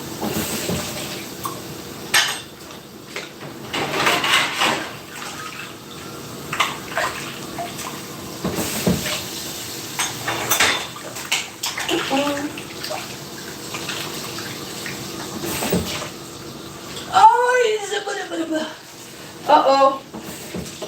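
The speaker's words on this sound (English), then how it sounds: "So I like to just take each item at a time and rinse it." Running tap water rinsing dishes one item at a time in a kitchen sink, a steady splashing stream with clinks and shifts in flow, while a person talks over it.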